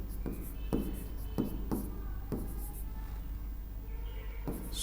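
Pen or chalk strokes scratch across a board in a steady series of short, separate bursts, about six in all, over a low constant hum with no talking.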